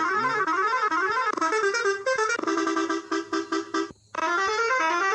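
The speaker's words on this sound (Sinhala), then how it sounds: "ඒ හෝන් එක ලස්සනයි." A melodic vehicle horn sounds loud and close, playing a rising and falling tune that breaks into short repeated toots before a brief gap, then resumes.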